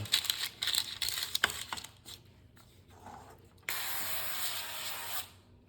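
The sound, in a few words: spraying avocado oil cooking spray onto parchment paper in a pan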